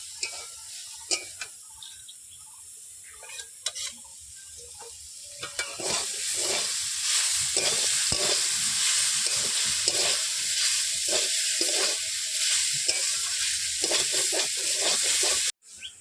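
Red amaranth greens and peanuts stir-fried in a pan: soft scattered scrapes and ticks at first, then a steady loud sizzle with repeated stirring strokes until the end.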